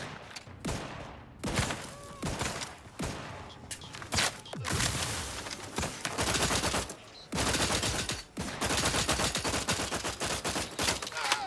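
Sustained gunfire in The Outer Worlds 2 video game: loud, dense bursts of rapid shots with brief pauses between volleys, continuing almost without break throughout.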